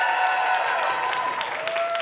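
A live audience cheers and applauds when asked to pick a Shakespearean tragedy comedy, a sustained, fairly loud crowd roar with clapping that holds steady throughout, a few voices rising above the mass.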